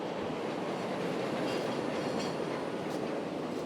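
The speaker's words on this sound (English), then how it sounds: "As we approach the loop, the blue line goes subterranean. And like all subways, it's really noisy down here." A Chicago 'L' Blue Line subway train running through an underground tunnel near the Loop: a loud, steady roar of wheels and rattling cars with faint clickety-clack, continuous throughout and without any voices.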